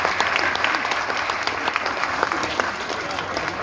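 An indoor audience claps at a public address, a dense sustained round of applause with sharp individual hand claps throughout, steady and close, fading slightly toward the end.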